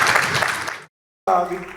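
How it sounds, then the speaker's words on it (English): An audience applauding a panel at a fashion supply chain talk, dense loud clapping that cuts to silence and then resumes as strongly. "can we call a big round of applause for the panel, please?"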